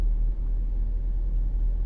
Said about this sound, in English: That's an old pickup, isn't it? 1992.